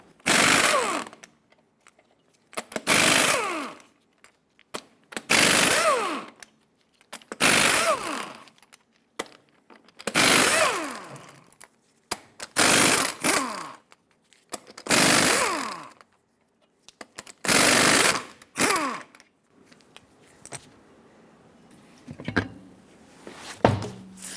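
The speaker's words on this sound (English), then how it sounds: "Use a 24mm socket and remove all 8 of your lug nuts" An impact wrench spins off the 24mm lug nuts on a 2003-2009 Dodge Ram 2500 front wheel. It comes in about eight loud, close bursts with short pauses between them and no talking.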